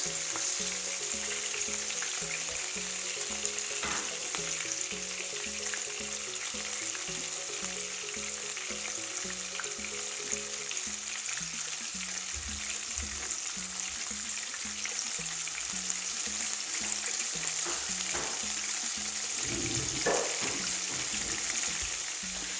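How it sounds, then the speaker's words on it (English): Caribbean-style cod fish pieces fry in a pan with a steady, close, bright sizzle of hot oil, continuous throughout with occasional pops and a faint rhythmic background hum, no talking. "you turn the other one nicely and leave them to fry"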